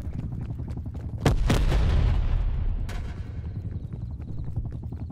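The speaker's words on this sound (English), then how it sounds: "Hostile artillery." An artillery strike in Call of Duty Black Ops Cold War: several heavy, booming blasts land close together, with a second blast following the first and a later impact, each trailing off into a rolling rumble.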